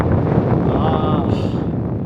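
Strong, cold wind buffets a mountain trail on the Agasthyarkoodam trek in Kerala, roaring steadily and close against the microphone with a broad, continuous rush.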